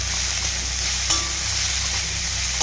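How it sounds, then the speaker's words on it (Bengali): Chopped tomato frying with ginger in a pan for oats khichdi makes a loud, continuous close sizzle with a low steady hum beneath and a faint clink partway through. "ভেজে নিতে হবে যতক্ষণ টমেটোটা একটু হালকা হালকা গলে না যায়"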